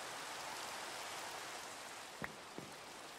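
Steady rain in the video game Minecraft, a soft even hiss of falling drops at low volume, with a couple of brief faint knocks near the end.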